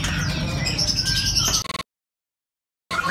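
Caged songbirds, Bali mynas and magpie robins, chirp and whistle loudly and close at an Indonesian bird market, with busy chatter of calls before a brief dropout.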